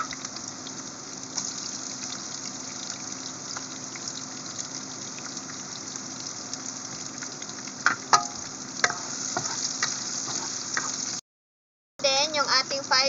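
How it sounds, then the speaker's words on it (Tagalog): Garlic and onion sauté in a pan with a constant close sizzle and hiss, a few clinks of a utensil partway through, then a brief dropout before the sizzle resumes. "gigisahin natin ang garlic. Garlic first. Papulahin muna natin kunti yung garlic natin mga be. So, ayan. Ilalagay na rin natin yung onion."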